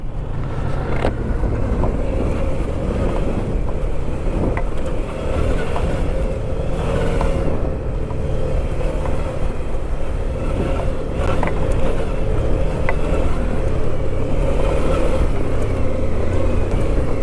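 A 2019 Suzuki V-Strom 650 on stock Battlax tires rides over sandy dirt, its engine droning loudly and steadily with wind and bumpy rumble, no talk.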